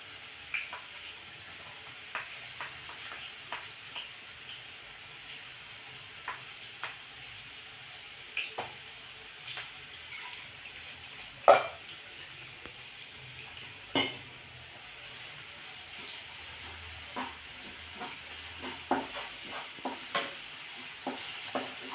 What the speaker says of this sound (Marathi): आता हे तेलावर व्यवस्थित असं परतून घ्यायचं आहे, याचा कच्चेपणा दूर होईपर्यंत।